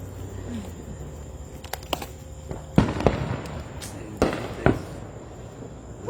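A small fountain firework goes off on the Fourth of July, giving a few sharp crackling pops and sputters spread across several seconds over faint outdoor background noise.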